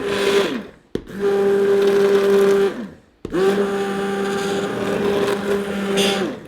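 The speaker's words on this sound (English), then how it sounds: "So I'm just taking my hand blender" A hand blender whirs loudly as it breaks up softened chunks of homemade laundry soap, running in three bursts with two brief pauses and a steady motor drone.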